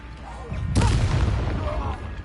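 A Confringo spell explosion in Hogwarts Legacy on PS5, a sudden deep booming blast that rumbles on for over a second, with a voice shouting.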